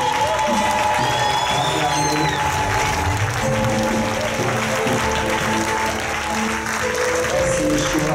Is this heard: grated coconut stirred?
no